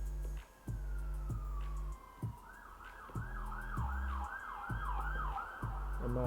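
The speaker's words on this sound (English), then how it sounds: "my apologies for the sirens in the background" An emergency siren wails in a rising and falling pattern from outside, fairly faint and distant, under a steady hum with rhythmic low tones running through it.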